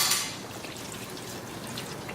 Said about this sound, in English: After mixing it well, I'll bring 2 cups water.